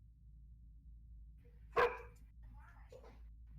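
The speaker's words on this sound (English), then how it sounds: "dog got barky." A single short dog bark, loud and close, cuts through a quiet room with a faint background hum, followed by soft indistinct voices or noises.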